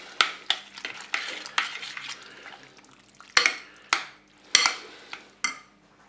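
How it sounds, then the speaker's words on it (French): Crème fraîche and mustard mixture stirred into leeks and salmon for a gratin, heard as a series of close, irregular scraping and clinking spoon strokes against the dish with no talking. "Maintenant, je vais ajouter mon mélange crème fraîche moutarde. Je vais mélanger."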